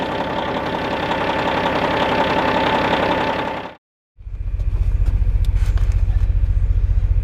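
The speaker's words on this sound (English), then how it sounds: "We'll just let it run and let it build some air pressure." Diesel engine of a semi truck idling in cold, snowy conditions, a steady low rumble with a rhythmic knock, loud and close; a brief silent break interrupts it before the idle resumes.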